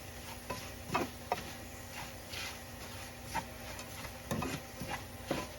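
Turmeric and chili powder frying in a pan on the stove for lemon pickle, a steady low sizzle with occasional scraping stirs of a utensil against the pan, close and moderately quiet.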